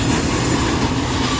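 A CSX freight train rolling past with a boxcar, a dense continuous rumble and rattle of cars close by, steady and loud for the whole stretch without talk.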